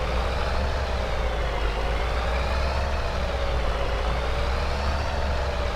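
A truck in Farming Simulator 22 drones steadily as it drives, a loud continuous engine hum with a faintly wavering whine and no voices.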